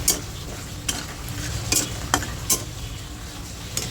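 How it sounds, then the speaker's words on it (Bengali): Close sizzling of lentil dumplings frying in a pan, punctuated by several sharp scraping clicks of a utensil stirring at irregular intervals. "মোটামুটি ভালো করে ভেজে নিলাম, এখন তুলে নেব।"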